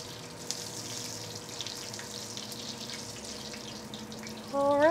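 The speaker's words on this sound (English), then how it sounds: "Done with frying our mushrooms." Steady hiss and sizzle of mushrooms frying in a pan, with a faint tonal hum underneath and a louder rising tone at the very end.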